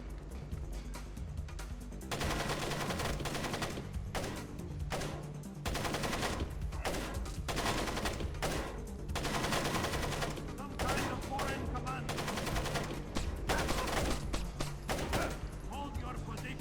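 Gunshots in the Splinter Cell video game, repeated bursts of fire broken by short pauses, fairly quiet overall, with talk heard at points.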